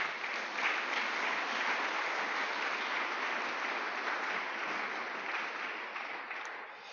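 A church congregation applauds in a steady, dense wash of clapping that holds for several seconds and fades slightly toward the end.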